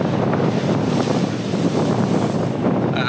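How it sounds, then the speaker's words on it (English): Strong wind buffets the microphone on the Oregon coast beside the ocean, a loud continuous roar with surf mixed in and no speech. "It's so windy here."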